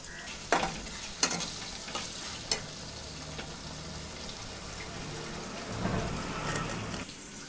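A potato mixture with tomato, chilli and masala is stirred and fried in a pan, a quiet continuous sizzle with a few sharp spatula taps early on and a longer scraping stir toward the end.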